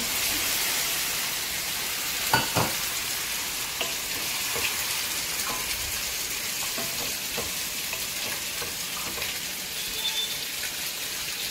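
Fish curry sizzling in a pan just after a splash of water is added, with garlic and a Jalokia chili paste in the mix; a steady, loud hiss and crackle runs throughout, with a few sharper pops and spatters.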